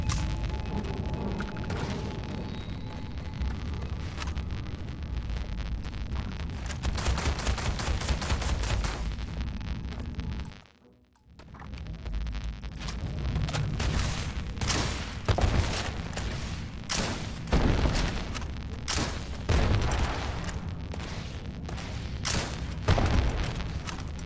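Rocket explosions in Starfield, a heavy barrage of loud blasts and crackling impacts that runs almost continuously, drops to near silence for a moment at the midpoint, then resumes with repeated sharp booms.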